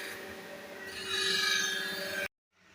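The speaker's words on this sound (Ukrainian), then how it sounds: "Перевертаємо на другий бік, шліфуємо ластохвости." Dovetail slides on a vintage German milling machine being sanded by hand, heard as a steady, close abrasive rubbing that grows louder midway and then stops abruptly, over a faint background hum.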